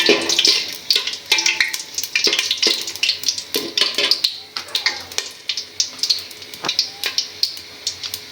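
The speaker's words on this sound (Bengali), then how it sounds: "এখন দিয়ে দিব শুকনো মরিচ তেজপাতা আর গরম মশলা মশলাটা একটু ভেজে নিব" Dried chillies, bay leaves and garam masala frying in soybean oil in a village kitchen, with repeated sharp crackles and spatters alongside scraping stir strokes, close and fairly loud, with no talking.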